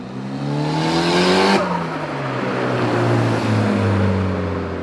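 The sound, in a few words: Evo 7 with screamer exhaust pipe driving, heard outside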